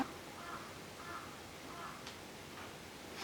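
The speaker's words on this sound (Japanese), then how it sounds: "カラスない。 カーカー言うてますけどね。" Faint, distant crow caws repeat about three times at even intervals, drifting in from outside a quiet room during a traditional tosenkyo fan-tossing game with maiko.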